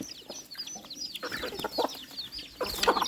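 Chickens on a Thai farm clucking in short, scattered bursts at close range, with a brief rooster-like call near the end over steady background bustle.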